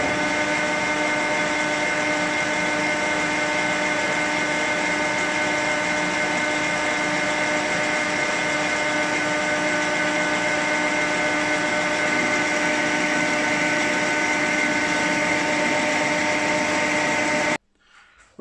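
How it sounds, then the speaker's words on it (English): A lathe bores out a hole with a boring bar so a gear fits onto a shaft for a 2-inch scale Fowler Showman's traction engine, giving a steady, even machining whine with a constant hum that runs alone throughout and stops abruptly near the end. "I've got a boring bar to bore out the hole to fit on this shaft."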